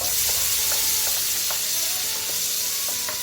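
Onions with a spoonful of garlic-ginger paste fry in a pan for chana pulao, a loud, dense, unbroken sizzle right up close with faint rhythmic scraping of a spatula underneath.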